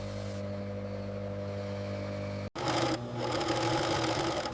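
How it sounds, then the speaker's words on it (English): A sewing machine stitches leather panels for premium Brahman bull leather goods, a steady mechanical hum that cuts off briefly midway, then resumes louder with a busier whirring clatter. "Artisans stitch each leather panel with careful precision."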